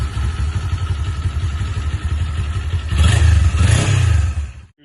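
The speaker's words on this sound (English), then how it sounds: "This is what the bike sounds like with stock exhaust startup." Kawasaki Z400 motorcycle with its stock exhaust, a close, loud engine that idles with a lumpy burble, briefly revs higher, then cuts off.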